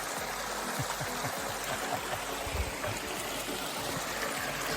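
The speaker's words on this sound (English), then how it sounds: "Massive waterfall here" Rushing water from a massive waterfall on Isle Royale's Rock Harbor Trail, a steady broadband roar heard close up with no talk over it.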